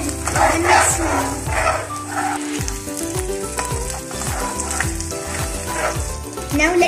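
Butter, Kashmiri chili powder and ketchup sizzle loudly in a pan while being mixed, a dense continuous crackle with rhythmic scraping strokes and a busy tonal backdrop; no voice heard.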